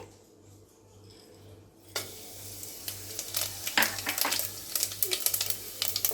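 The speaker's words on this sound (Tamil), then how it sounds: "இது மூணுத்தையும் நம்ம உள்ளே சேர்த்து கொஞ்சம் நேரம் வதக்கலாம்" Fennel seeds, cloves, cinnamon pieces and cardamom dropped into hot oil break into a loud, crackling sizzle, quiet at first and then a busy, spattering fry with spoon scrapes, under a low electrical hum.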